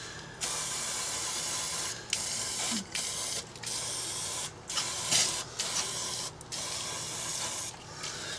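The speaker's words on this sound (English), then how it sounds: "I'll spray it with some electrical contact cleaner here now" Electrical contact cleaner sprays from an aerosol can onto a damaged Briggs & Stratton 2hp 60102 engine during a rebuild, a loud close hiss in long continuous bursts broken by short pauses.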